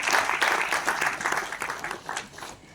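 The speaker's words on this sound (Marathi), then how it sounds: "एकदा जोरदार टाळ्या त्यांच्यासाठी वाजवा." Audience applause at a Marathi film trailer launch, a burst of clapping from a crowd that starts loud and gradually thins and fades over a few seconds.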